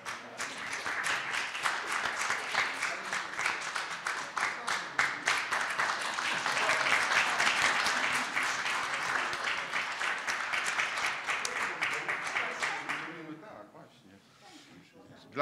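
An audience applauds a choir at its 15th anniversary concert in Wrocław: steady, dense clapping from a full hall that holds for about thirteen seconds and then dies away to quiet.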